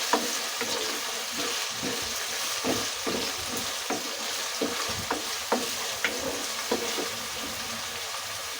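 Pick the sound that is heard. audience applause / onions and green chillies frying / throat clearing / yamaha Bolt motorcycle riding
onions and green chillies frying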